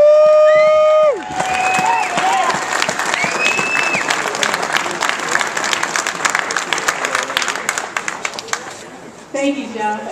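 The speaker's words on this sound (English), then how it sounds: "a big round of applause for Representative" A crowd at a New Hampshire rally applauds and cheers for Representative Pam Tucker. The clapping is loud and sustained, with whoops and scattered shouts. Voices are heard at the start and again as the applause breaks off.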